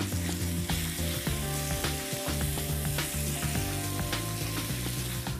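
Chopped vegetables and black olives fry loudly in a pan, a dense continuous sizzle with stirring clatter and no voices.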